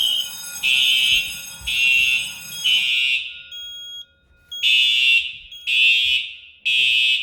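A fire alarm interfaced with a Novec 1230 suppression system during a smoke test sounds in loud, repeated electronic tone bursts, each lasting about a second, with a brief quiet gap before the pattern resumes.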